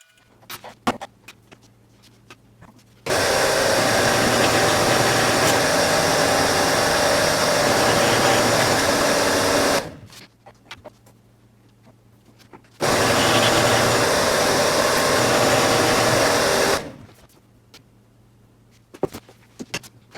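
A drill boring finger holes in a Motiv Supra Enzo bowling ball: two long, loud, steady whirring grinding runs of about seven and four seconds, separated by a quiet pause with faint clicks and handling noises.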